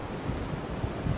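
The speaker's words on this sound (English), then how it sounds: "Right now, it's gusting." Wind gusts across an open field, a steady broad rushing roar with low buffeting rumble against the microphone, continuous and close.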